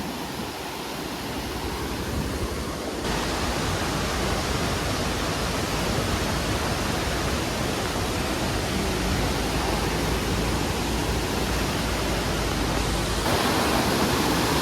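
Heavy rainwater rushing down a forest waterfall on the Valparai to Athirapally road, a loud, steady broadband roar that runs unbroken and close throughout.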